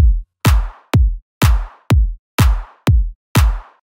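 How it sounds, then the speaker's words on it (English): A house track plays a four-on-the-floor kick drum pattern: eight punchy, evenly spaced kicks with a short snap and booming low tail, loud and alone with nothing else underneath. "Yeah, now we just do a 4 to the floor."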